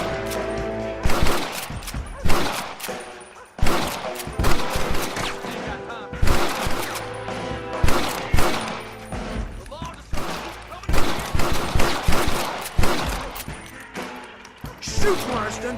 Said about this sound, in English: Shoot, Marston! They're going to escape!